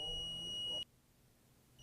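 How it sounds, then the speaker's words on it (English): A handheld all-materials locator gives off a steady high electronic beep that cuts off abruptly, leaving near silence, then starts sounding again right at the end. "You should take notice of the audible alarm as you move the device away, and then back to the target."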